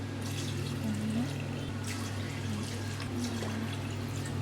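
Water pours into a cooking pot of rice for chicken biryani, a soft steady splashing pour heard close over a constant low kitchen hum, with no talking.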